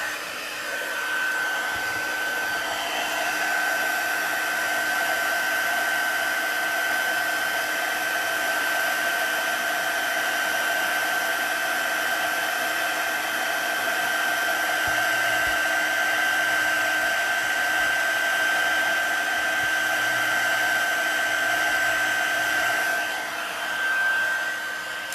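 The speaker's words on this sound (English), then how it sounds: "a little bit more heat embossing" Heat embossing tool blowing hot air over a Christmas card, a constant loud whirring fan hiss with a steady high whine, running unbroken without pause.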